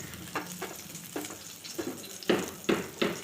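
Nigella seeds, chillies and garlic sizzling in hot oil, soft steady frying with a series of bright crackling spurts that grow louder toward the end, close and alone without talk.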